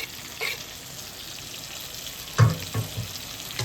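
Garlic, ginger, onion and green chilli frying in hot oil, a soft steady sizzle with a few louder stirring scrapes and clatters near the end.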